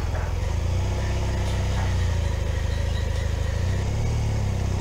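A steady, low engine rumble idles continuously, a BMW R1200GS-type motorcycle ticking over at rest with no revving and its exhaust valve closed, fairly close and even in level throughout.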